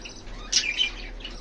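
Pet birds chirping: a couple of brief, bright chirps stand out over a steady low hum.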